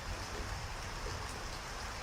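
Steady, soothing rainfall hisses evenly throughout, a soft continuous patter of drops without pauses, gentle and moderately distant.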